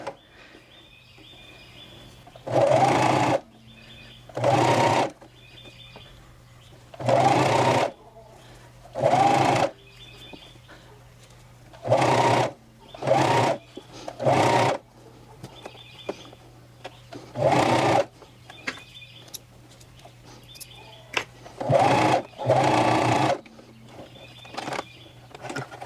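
A Janome CoverPro1000CPX coverstitch machine sewing fabric in repeated short whirring bursts of a second or two each, close and clear, separated by quiet pauses.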